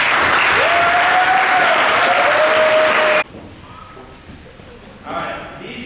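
A banquet crowd at a high school football awards night claps loudly and steadily for about three seconds, then the applause cuts off abruptly, leaving a quiet room with faint murmurs.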